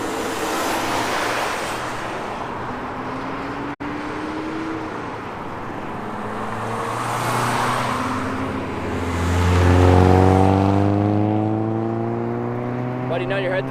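Cars rushing fast past a roadside hitchhiker near Santaquin, Utah, with a steady traffic roar and surf-like swells building as vehicles approach, one loud close pass near the end; a voice speaks over the noise.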